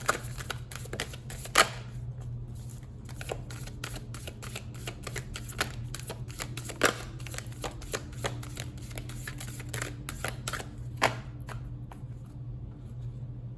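Quick, crisp riffles and taps of tarot cards being shuffled repeat at close range over a steady low hum, with short pauses between bursts.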